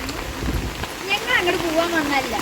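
Heavy monsoon rain falls during the Karkkidakam season in Kerala, a steady dense hiss of drops that continues throughout while voices talk over it.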